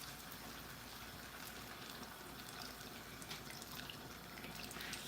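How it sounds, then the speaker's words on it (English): Hot water poured from a kettle while cooking cassava leaf and aubergine, a steady broadband splashing and trickling that runs unbroken for the whole stretch at a fairly quiet, even level with no talk. "I'm just using the kettle."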